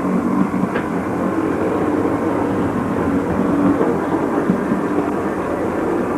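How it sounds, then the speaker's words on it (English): An O gauge model electric underground train runs along past a model bus station, its continuous rumbling whir holding even for several seconds with no voices. "underground set running past the bus station"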